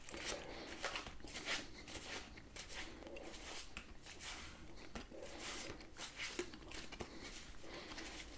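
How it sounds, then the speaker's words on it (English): Animal picture cards shuffled close up, a soft continuous patter of riffling and sliding card edges with small irregular bursts, quiet and steady throughout, no talking. "a little bit more shuffling."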